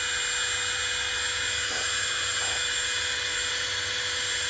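Heat gun blowing a steady, loud whooshing hum while shrinking heat-shrink tubing on an HO scale model locomotive, continuous and unbroken throughout.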